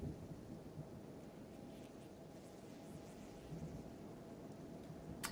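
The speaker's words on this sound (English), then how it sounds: "Yes, I know it's acid rain." Acid rain pours steadily in a video game with a constant hiss, while low thunder rumbles underneath throughout.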